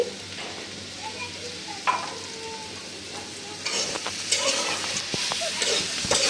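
Taro leaves frying in mustard oil in a pan, a steady soft sizzle with scraping stirs throughout and a louder burst of crackling in the second half, no voices.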